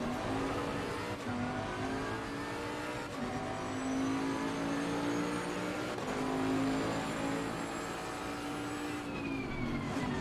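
A GT race car in the Assetto Corsa Competizione racing game runs at high revs, its engine droning steadily with brief shifts in pitch over ten seconds, loud and continuous without talk.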